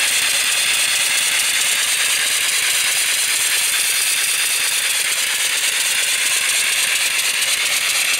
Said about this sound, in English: And it's running about 250 RPM right now.